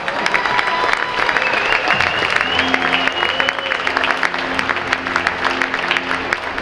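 A gym crowd at a varsity boys basketball game claps steadily for a young future Bobcat point guard, with scattered cheering and some voices mixed in, sustained and fairly loud.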